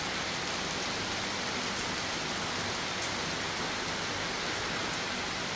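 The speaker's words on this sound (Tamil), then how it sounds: "6:30க்கு திடீர்னு சடனாக மழை பெய்ய ஸ்டார்ட் ஆகிடுச்சு." Heavy rain pours down suddenly one early morning in Dindigul, a dense steady hiss of falling water with no voices, even and unbroken throughout.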